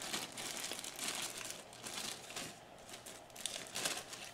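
Plastic Ziploc bags crinkle and rustle steadily and close up, a dense, continuous crackle with brief louder bursts and no voices.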